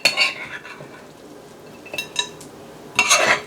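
A spoon scrapes a cauliflower and ham patty mixture out of a bowl in a home kitchen, giving two short bursts of scraping and clinking separated by quieter gaps, close up, with no talking.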